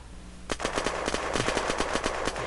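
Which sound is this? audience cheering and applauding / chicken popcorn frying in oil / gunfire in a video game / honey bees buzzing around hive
gunfire in a video game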